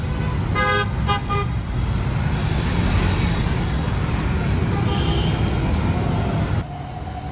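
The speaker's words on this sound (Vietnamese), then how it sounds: "Xe buýt Hà Nội là phương tiện giao thông công cộng quan trọng của Hà Nội" A Hanoi city bus honks a few quick repeated horn toots near the start, then its engine and surrounding street traffic rumble loudly and continuously before dropping off near the end.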